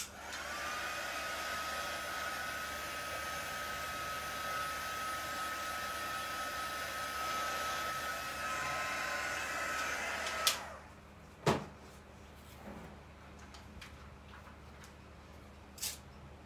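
A hair dryer runs steadily for about ten seconds while drying alcohol ink on a craft tag, then cuts off, leaving a quiet room with a few faint knocks and clicks.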